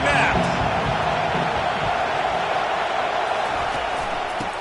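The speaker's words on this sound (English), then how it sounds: "They challenge this crowd to bring the energy, and I'd say they're doing that." A football stadium crowd roars continuously, a dense wash of cheering and shouting that stays loud and steady throughout, with a commentator's voice beneath it.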